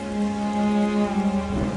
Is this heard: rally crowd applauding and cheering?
no